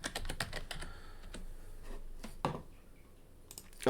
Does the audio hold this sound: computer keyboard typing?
yes